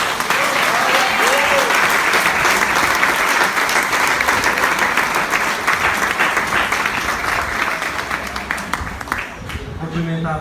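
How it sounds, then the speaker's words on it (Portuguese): A church congregation bursts into sustained, dense applause that fills the room loudly and evenly for about ten seconds, with a voice speaking faintly underneath. "Se você crê, aplauda ao Senhor."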